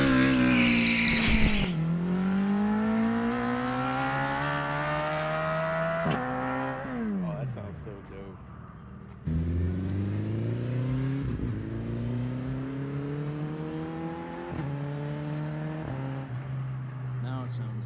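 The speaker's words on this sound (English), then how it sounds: "you could hear the bike run" A Suzuki Hayabusa motorcycle fitted with an air shifter runs close and loud, its engine note climbing in long sweeps and dropping sharply at quick shifts, then pulling again.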